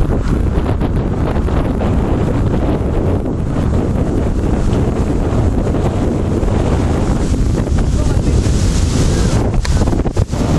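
Strong wind roars and buffets the microphone continuously on a beach at Talisayin Island, Zambales, loud and unbroken, with a rushing surf-like wash underneath.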